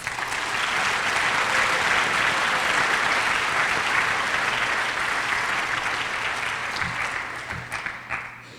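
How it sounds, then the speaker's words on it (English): A crowd at an outdoor community walk and candlelight vigil against violence breaks into sustained, loud applause, a thick wash of clapping that holds steady for several seconds before thinning out toward the end. "Let's give them a huge round of applause."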